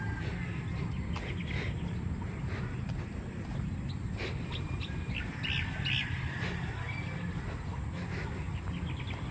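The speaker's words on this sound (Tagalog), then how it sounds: "Ang ganda na, ang sarap sa tenga ng mga ibon." Birds chirp and call outdoors in warm late-morning sun among trees, scattered tweets rising over a steady broadband background hum for the whole stretch.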